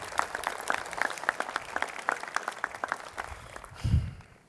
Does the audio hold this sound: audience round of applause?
yes